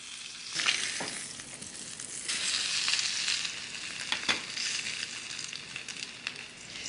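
A thick cowboy steak searing on a grill over direct heat, a continuous close sizzle that swells and fades, with a few sharp pops and crackles along the way.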